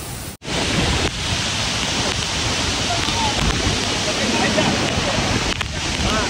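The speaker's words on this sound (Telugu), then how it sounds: "ఇంకా ఇదే వాటర్ ఫాల్ చూడండి, పైన ఎంత ఫ్లో తోటి వస్తుందో" Rain-swollen Anayadikuthu waterfall near Kochi pours in a loud, steady, hissing roar close by, continuous after a short dropout at the start, with no pauses in the flow.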